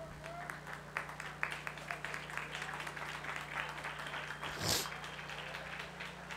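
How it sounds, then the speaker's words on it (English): Distant crowd applause at a men's rugby match between Bermuda and Barbados as an injured player limps off, faint scattered clapping over a steady electrical hum with a brief burst of noise near the end. "Nice round of applause as Parenchief limps off the field."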